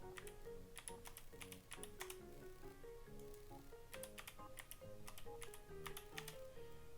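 Someone types a resident registration number on a computer keyboard, a steady run of close, crisp key clicks with brief pauses between bursts and no talking.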